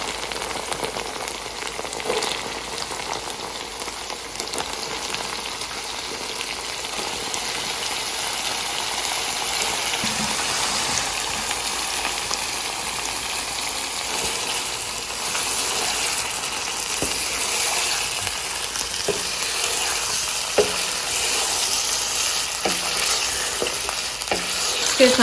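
Chicken pieces sizzle with ginger and garlic in a hot karahi, a dense, even crackle of frying oil close by with occasional stirring clicks running throughout.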